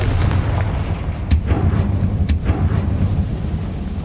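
Blasting Confringo spell in Hogwarts Legacy: loud, dense booming roar throughout, with two sharp cracking impacts about a second apart punching through the sustained rumble.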